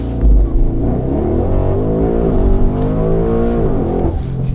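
An MTM-tuned Audi RSQ8 SUV with 1001 horsepower accelerates hard from close by, its engine roaring and rising in pitch through a gear change, loud and alone.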